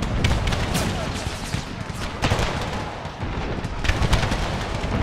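Explosive mortar shells land and burst in an American Civil War battle in an Empire: Total War mod, a dense roar of overlapping blasts and gunfire rumbling steadily through the whole stretch, loud and close.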